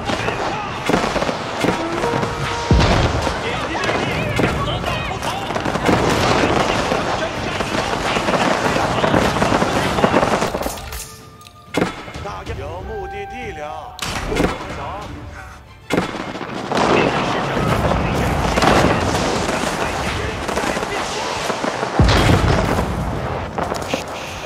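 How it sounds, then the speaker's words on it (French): Chinese cannons firing in a strategy video game, heavy booms and crackling blasts in repeated bursts, loud and dense for most of the stretch with a brief quieter gap midway. "Ah, les canons chinois."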